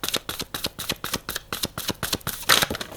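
Tarot cards are shuffled by hand in a rapid, rhythmic series of crisp riffling flicks, close and clear, ending with a louder burst as the deck is worked, with no voices present.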